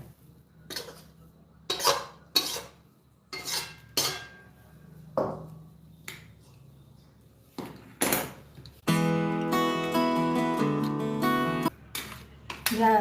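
Hot jaggery mixture is pressed and spread into a ghee-greased steel plate with a spoon, giving repeated metallic scrapes and taps, then a sustained ringing metal clatter partway through, with no talk.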